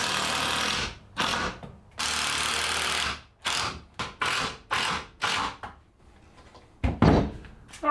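Power drill driving screws into wood while assembling a DIY cold frame frame, close and loud in several bursts of whirring, separated by short pauses and a few knocks near the end.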